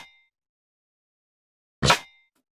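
A snare drum hit processed by the Cableguys Snapback plugin, which layers a reversed sound onto the drum: a faint tail at the start, then a single loud swelling burst near the end that cuts off abruptly.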